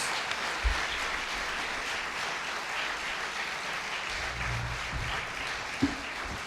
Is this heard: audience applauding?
yes